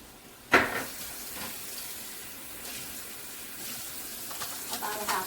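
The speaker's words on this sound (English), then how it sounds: "So I might add a little bit more water." Water poured into a pan of sweet and sour sauce for Filipino fish escabeche, a sudden splash followed by a soft steady sizzle and hiss close by.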